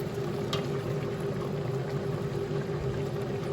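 String beans simmering in chicken broth in a pot make a continuous close bubbling and gentle popping with a steady low hum beneath.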